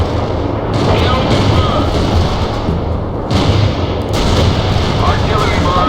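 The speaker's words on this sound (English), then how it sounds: "Heavy artillery barrage inbound. They got us targeted." Artillery barrage explosions in the real-time strategy game World in Conflict land as a dense, continuous rumble of heavy thuds and booms, with radio-style unit voices speaking over the din.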